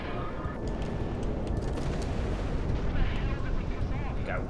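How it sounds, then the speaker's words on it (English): An explosive machine gun fires continuously in the Ace Combat video game, a dense roar of booming bursts and blasts that stays loud and steady throughout, with game audio layered over it. "Oh, also this has explosive machine gun."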